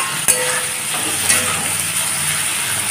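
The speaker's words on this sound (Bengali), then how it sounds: "এখন আদা, রসুন, পেঁয়াজ, টমেটো, কাঁচা লঙ্কাকে ভালো করে কষে নেব" Ginger, garlic, onion, tomato and green chili sautéing in a pan over low flame give a steady, close hiss of frying, with two brief clinks of a utensil against the pan.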